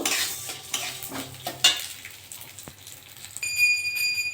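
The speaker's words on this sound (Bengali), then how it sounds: "তেলটা গরম হয়ে গেছে আমি ডালটা দিয়ে দেবো দিয়ে ডালটা একটু ভেজে নেব" Lentils (dal) fry in hot white and mustard oil in a wok, a short burst of sizzle fading into soft stirring and spoon scrapes, with a sharp metallic tick and a thin ringing tone toward the end.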